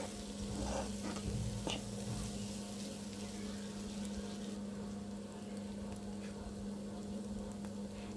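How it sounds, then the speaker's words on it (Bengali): Tawa chicken with garam masala and roasted cumin powder frying and being stirred in a pan, a steady sizzle with a low constant hum and a few scraping stir strokes early on, no talk. "দিয়ে বারবার নেড়ে চেড়ে রান্নাটি করতে হবে।"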